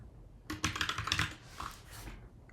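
Close, quick burst of keystrokes on a computer keyboard as a number is typed, a rapid run of light clacks followed by a couple of softer taps.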